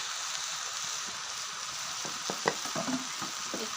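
Pumpkin greens with phulbori frying in spices in a pan, a steady hissing sizzle that turns into several clattering stirs and scrapes near the end, no talk.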